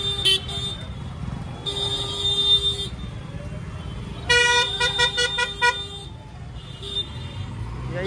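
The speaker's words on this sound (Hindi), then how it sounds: "और पीछे से हॉर्न मार दे हैं" Vehicle horns honk repeatedly in a crowded Indian roadside scene, in several sustained blasts and short toots of varying length over busy traffic noise, fairly close by, with some voices in the background.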